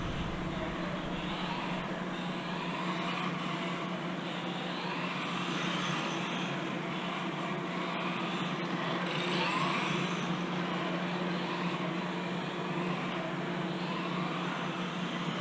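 A Tamiya TT-02SW RC touring car runs continuously with a steady whining electric motor hum. The sound stays close and even for the whole stretch, with brief faint clicks and no talk.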